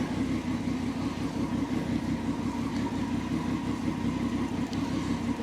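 A Yamaha Grizzly 660 ATV that sat unused for eight years runs steadily after being choked, its engine giving a close, low, even drone with a slight rough edge and no talk over it.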